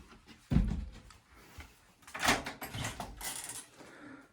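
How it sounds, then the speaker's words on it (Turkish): The wooden pantry door of a village house is pulled open, giving a knock and a clunk followed by a longer creaking scrape, close and moderately loud, with faint movement around it. "Bu kapı buradan açsana benim."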